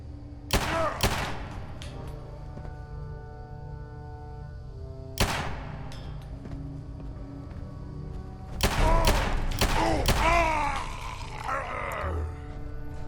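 A .44 handgun fired in Fallout 4, loud sharp shots in separate bursts, a couple early, one alone, then a quick cluster with grunting and roaring creature noises mixed in.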